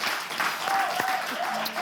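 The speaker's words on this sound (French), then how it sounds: "On va les raccompagner avec des applaudissements plus nourris encore" A live comedy show audience gives dense, steady applause that fills the room at close range, with a brief whistle and faint voices mixed into the clapping.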